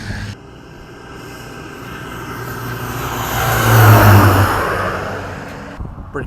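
An Air Tractor and a Thrush crop-duster airplane fly past, a low droning engine swelling steadily to a loud peak around the middle before fading away, with no talking.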